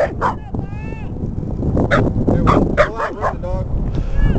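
A dog barks and yips repeatedly outdoors, several sharp barks and whimpers at close range, with people talking around it.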